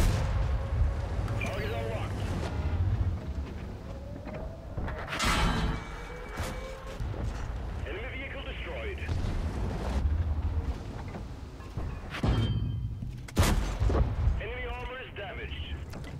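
Tank cannon shots in World of Tanks, several heavy booms spread out among steady engine rumble, with in-game voices talking throughout.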